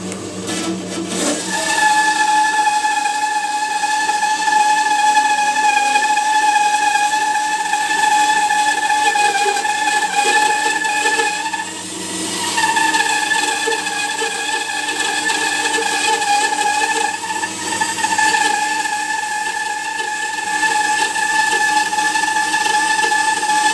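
A band saw runs with a loud, steady whine as it cuts firewood, its pitch dipping briefly a couple of times under load.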